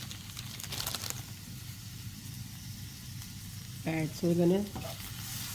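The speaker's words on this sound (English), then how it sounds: "continue to saute our vegetables" Vegetables for spring rolls sautéing in a pan, giving a steady close sizzle and stirring scrape, with someone talking briefly over the frying.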